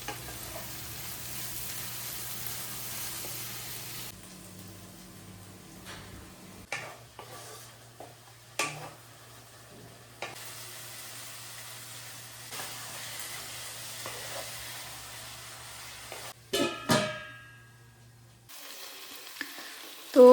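Meat braising in a pan after its juices have cooked off, giving a soft, steady low sizzle broken by occasional clinks and scrapes of a stirring utensil, ending with a sharper clatter.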